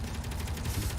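Gatling gun in Space Engineers firing a continuous rapid rattle, a dense low rumble of shots lasting the whole second, close and steady with no voices.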